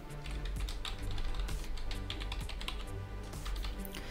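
Computer keyboard keys tapped in a quick, uneven run while a password is entered, close and clear with no talking.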